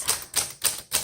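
A 1936 Corona Sterling Flat Top typewriter is typed on in an even rhythm of four crisp, close keystrokes, each a bright clack with a short tail, with no talk.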